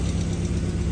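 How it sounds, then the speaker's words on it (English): Engine of a 2008 Mazda idling with the AC compressor running, a steady, close, low rumbling hum that holds even through a short stretch with no talk. "you can hear the compressor cycling on and off as the engine idle goes up and down."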